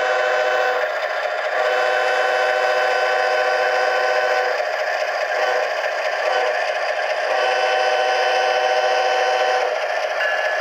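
A Bachmann HO scale model locomotive's sound decoder horn sounds steadily throughout, a bright sustained tone with brief dips, close and loud with no talking.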